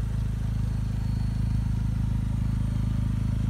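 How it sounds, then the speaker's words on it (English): A 2009 Saturn Sky Redline with an aftermarket stainless steel exhaust and cat downpipe idles nearby in a deep, steady, throbbing rumble with no voices over it. "Sounds amazing. You can hear it running."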